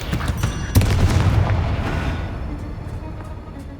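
A Bombarda spell explosion in Hogwarts Legacy lands with a sharp blast, then a heavy rumbling boom fades slowly over several seconds. No voice is heard.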